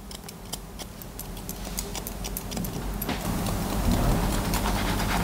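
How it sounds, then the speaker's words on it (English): Steady run of small, crisp snips from scissors thinning out hair during a haircut, regular close clicks over a constant background hum that grows a little louder toward the end. "Scissors just to give just a thin little bits out more."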